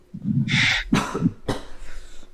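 A man coughs close to the microphone, three harsh bursts in quick succession, the first two loud and raspy, the last softer and trailing off.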